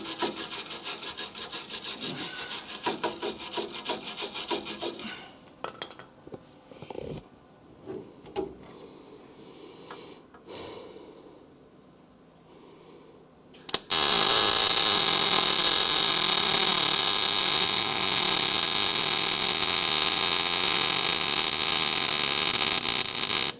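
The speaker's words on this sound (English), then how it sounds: "Oh, I gotta wire wheel it." A wire wheel grinding a car body down to good metal during a Crew Cab Charger restoration, a harsh, steady abrasive whir that runs, breaks into quieter scraping and handling sounds, then returns loud and continuous.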